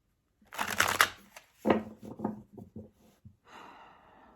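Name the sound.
tarot cards being shuffled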